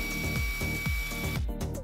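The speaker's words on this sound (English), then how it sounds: "Drill a new hole" A power drill bores a new hole through a repaired plastic headlamp mounting lug, a steady motor whine with rhythmic low bumps, close and continuous, briefly dropping off near the end.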